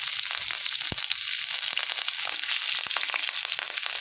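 Black cumin seeds and pieces of green chili temper in hot oil, a continuous crackling sizzle with scattered sharp pops and spits throughout, close and loud, with no talking.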